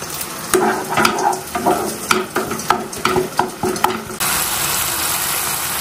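Garlic paste, ginger paste, turmeric, chili powder, salt and chopped tomato sautéed in a pan, with a steady sizzle of frying and repeated stirring scrapes, fairly close and loud, the sizzle continuing alone at the end.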